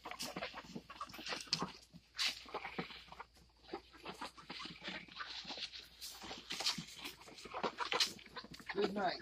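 Backyard chickens cluck in short, scattered bursts, soft and close, around a person moving about the coop.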